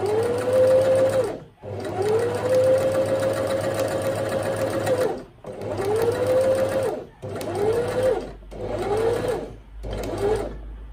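A domestic sewing machine stitches a straight seam in fabric, its motor whirring in several bursts of varying length separated by brief stops, close and clear.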